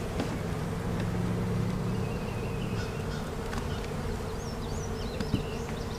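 Honey bees from a captured swarm buzzing around an opened hive during inspection, a dense, continuous droning hum close by, with individual bees flying past the listener now and then.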